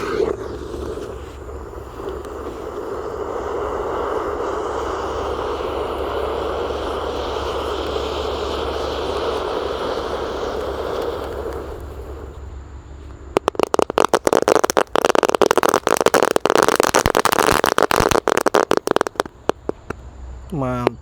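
A lit ground firework fizzes and roars steadily for about twelve seconds, then breaks into a loud rapid crackling flurry that runs close to the end, with a voice talking during the early part.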